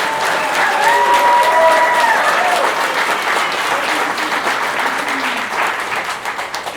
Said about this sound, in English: So let's give Jamie a round of applause.